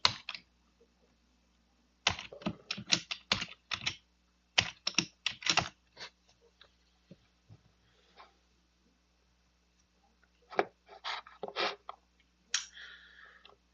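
Password keys tapped on a computer keyboard in bursts of quick, close clicks, with pauses between runs and a soft low hum underneath.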